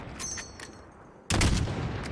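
A sharp gunshot blast cracks out loud after a quieter stretch of faint game noises and tones, its echo trailing off briefly, in the video game Modern Warfare (2019).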